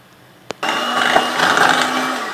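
Cream cheese, a full 395 g tin of condensed milk and vanilla essence being beaten together with an electric mixer for a no-bake Oreo blueberry cheesecake, a steady whirring drone that starts abruptly after a brief click and runs loud and even to the end.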